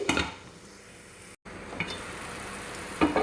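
Ground beef sizzles steadily as it sautés in a pan for a stir-fried vegetable dish, with a brief gap mid-way and a few sharper crackles and utensil clinks near the end; no one speaks.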